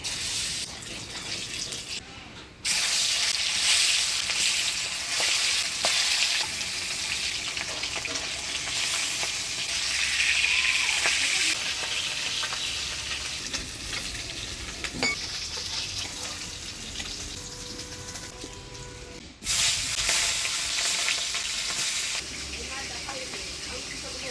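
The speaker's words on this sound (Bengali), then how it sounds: "এবার মাছটা ভাজি নেব। তেলের মধ্যে অল্প লবণ দিয়ে দেই।" Fish frying in salted oil for a light aar fish curry, a dense, continuous close sizzle and crackle running through nearly the whole stretch, with brief gaps and a faint voice underneath in places.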